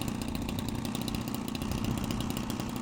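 A petrol engine in an Edge 540 model aircraft runs steadily outdoors in a garden, a loud, continuous buzzing drone with no pauses and no talk over it.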